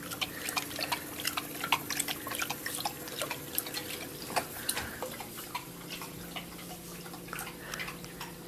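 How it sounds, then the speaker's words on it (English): A Great Dane laps from a running water fountain, quick wet splashes and drips ticking over a steady trickle of flowing water, close and fairly quiet. "And that's how my Great Dane gets his water."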